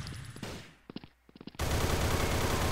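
Gunfire in the shooter game Blood Strike: a short burst of distinct rapid shots, then a loud, dense, continuous stretch of firing that fills the rest of the clip, with no talk.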